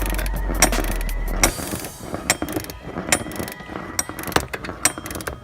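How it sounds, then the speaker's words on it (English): A ratchet fitted with a 15 mm socket clicks in short quick bursts while an alternator bolt on a 2007 Chrysler Aspen is tightened, close and crisp, with brief pauses between strokes. "Let's take a 15 millimeter, stick it down there, tighten it back in real quick."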